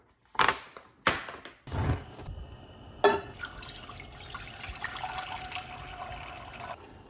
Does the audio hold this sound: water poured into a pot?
yes